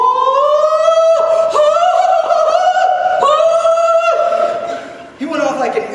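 A voice imitates an air raid siren, rising and falling in sustained wailing howls across several breaths, loud and close, with a brief chuckle-like break near the end.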